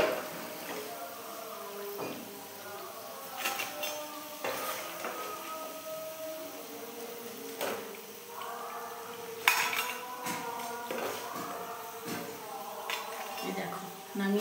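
Utensils clink and scrape against a pan as fried potato-and-besan snacks are lifted out, with scattered metallic taps and knocks over several seconds above quiet kitchen background.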